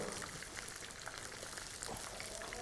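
Onions frying in a pan for a dal mash dish, cooked until brown: a steady, close, dense sizzle with fine crackling spatters, continuous throughout and without any talk.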